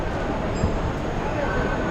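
Inside a passenger train running from Jakarta to Bandung in West Java, a steady, loud low rumble and roar of the carriage in motion fills the space, with faint indistinct voices beneath it.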